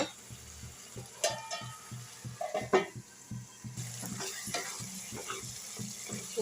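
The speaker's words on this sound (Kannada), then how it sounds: "ಇವಾಗ ತಟ್ಟೆ ಮುಚ್ಚಿ ಇನ್ನೊಂದು ಐದಾರು ನಿಮಿಷ ಬೇಯಿಸೋಣ" Chicken with dill leaves and masala cooks in a covered pan, a soft steady sizzle broken by scattered clinks and scraping of a utensil against the pan.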